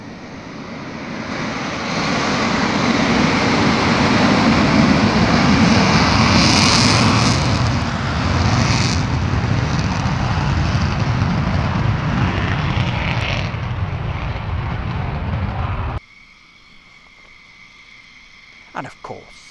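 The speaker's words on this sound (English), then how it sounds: "if you're at Lake Heath, you've got to have a couple of F-15 Eagles" F-15 Eagle fighter jets at RAF Lakenheath fly over as a loud, broad roaring rush that swells and holds for many seconds, then cuts to quiet background with brief faint noises.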